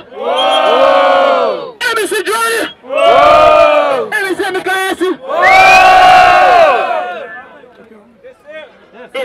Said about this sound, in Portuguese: Barulho quem vai ganhar, preferiu a rima do MC Johnny